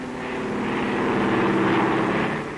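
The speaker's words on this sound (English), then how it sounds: "Why, it's a plane." Propeller airplane droning overhead, a loud, steady engine roar that swells and holds with no one speaking.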